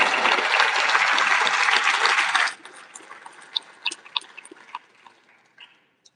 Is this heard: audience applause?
yes